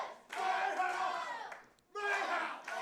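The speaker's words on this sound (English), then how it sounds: "The crowd showing their approval to the couple from the Wilde side." Wrestling fans at an All-Star Wrestling show roaring and cheering in approval for a victorious tag couple, two loud swells of crowd noise separated by a short dip, with a commentator's voice underneath.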